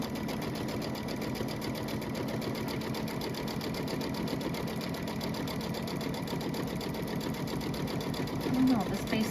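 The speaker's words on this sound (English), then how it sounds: "this is the basting stitch to baste this other side down" Domestic sewing machine running a basting stitch on a pillow panel, a fast steady mechanical whirr with rapid regular needle clatter throughout, close up, with a voice speaking faintly over it near the end.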